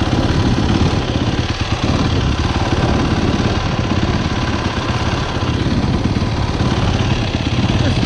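Yamaha YZF 400 motorcycle engine idling, a loud, close, steady rough rumble with fast regular pulsing that continues unbroken throughout.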